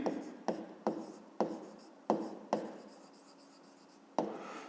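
Pen strokes scratch across paper while writing out a 5th-grade math exercise by hand: a handful of short, close, crisp bursts, each fading quickly, with a longer pause before the last stroke and no talking.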